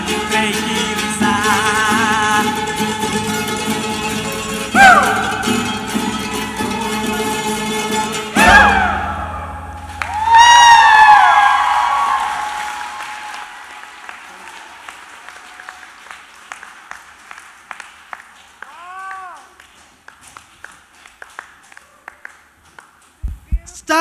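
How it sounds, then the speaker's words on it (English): Applause and cheering for a singer on a televised talent show stage, the crowd and judges rising into a loud swell after the final sung notes, then fading as music and a presenter's voice continue. "Standing ovation from all the three judges."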